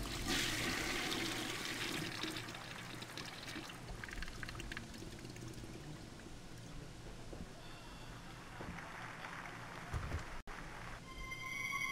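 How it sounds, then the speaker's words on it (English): A toilet flush in the game Death Flush: loud rushing, gurgling water pours and swirls for several seconds, then fades toward a trickle with a brief clunk near the end. "Let's flush and get out of here."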